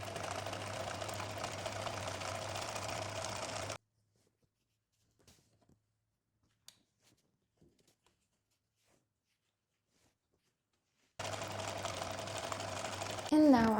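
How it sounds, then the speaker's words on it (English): Sewing machine running a zigzag stitch along the fabric edge of a maxi scrunchie, a fast steady mechanical whir in two bursts separated by several seconds of near silence. "I'm gonna do a zigzag stitch over the edge."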